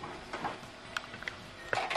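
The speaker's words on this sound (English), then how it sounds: "wait for the printer to finish" An HP ENVY 4527 inkjet printer works through a report, giving soft mechanical whirs and a few short clicks and ticks from the paper feed, close and moderately quiet.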